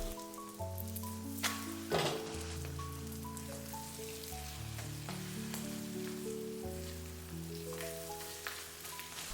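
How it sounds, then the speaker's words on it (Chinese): Wood ear mushroom and egg mixture sizzles and crackles steadily in hot oil in a wok, a continuous frying hiss heard beneath louder background music. "油熱之後，把木耳雞蛋液直接倒在鍋裡"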